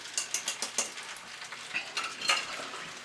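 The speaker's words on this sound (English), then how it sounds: "And I'm going to shift these pans around." Metal cooking pans scraping and clanking as they are shifted around on a stovetop while fettuccine Alfredo is being made, a run of short close clatters and scrapes with faint sizzling underneath.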